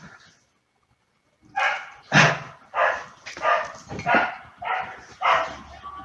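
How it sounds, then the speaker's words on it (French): A dog barks in a steady series of about seven sharp, evenly spaced barks, loud and close, after a brief quiet stretch at the start. "Tu vois, Sam, il y a un chien qui aboie à cause de toi."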